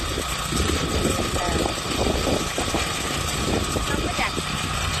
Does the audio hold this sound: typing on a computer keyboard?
no